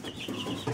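A small chick of a Brahma or Loman Brown breed, held for weighing on a scale, gives a brief soft cluck and cheep, quiet and close, with no voices.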